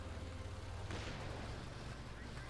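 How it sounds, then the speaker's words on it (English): Churchill tank cannons firing in Company of Heroes 2, a dull boom amid a continuous low rumble of battlefield noise, with a burst of broadband blast energy partway through and steady loud background throughout. "Lots of cannon from the Churchill tanks."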